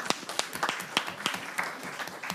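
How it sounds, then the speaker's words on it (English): Sparse, scattered hand claps from a small audience at a school board meeting honoring a retiring elementary school staff member, a handful of separate claps at uneven spacing, fairly quiet. "I think we should clap. We should clap."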